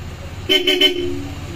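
A Honda motorcycle horn beeps once in a short, bright toot, close and loud over a low background hum.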